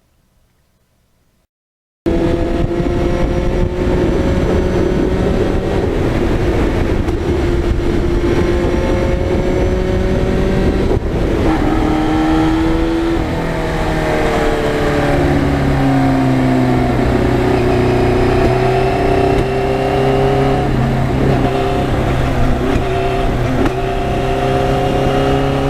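A 1991 Yamaha FZR 1000 sport motorcycle engine runs loud and steady after a brief silence, its pitch rising and shifting as the throttle is worked, with no talking over it.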